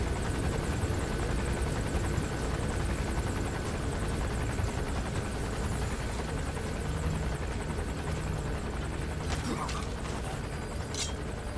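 A helicopter passes overhead in Metal Gear Solid V, a continuous loud rotor drone that fills the whole stretch, with a couple of brief sharp clicks near the end and no speech.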